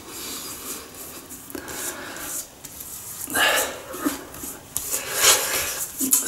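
A shavette straight razor with a replaceable blade scrapes through lathered stubble on a third shaving pass, giving close, repeated short rasping strokes in bursts, with a voice heard faintly in the background.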